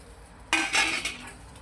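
Corn kernels roast in a metal kadhai over a gas flame, stirred in a few clattering, scraping bursts of kernels and utensil against the pan, with no speech.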